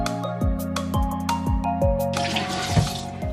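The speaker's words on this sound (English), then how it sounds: "First, always gotta wash our hands when we come home from the outside world." Water runs steadily from a household faucet while hands are washed beneath it, a close, continuous splashing stream with a few drips and a brighter gush near the end, no talking.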